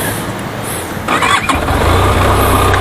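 A Benelli TRK 502X motorcycle engine cranks briefly, then catches and settles into a loud, steady idle close by.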